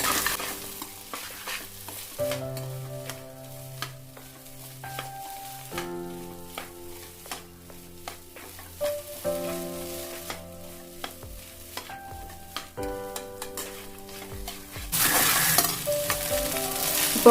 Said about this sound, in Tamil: இப்போ நல்லா ஃப்ளேம் வந்து நல்லா ஹையில் வச்சுட்டு நல்லா மிக்ஸ் பண்ணி விடுங்க